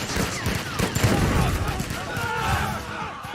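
Gunfire in an animated series, a dense rattling burst of rapid shots that runs the whole moment, loud and close, mixed with voices and clattering action sounds.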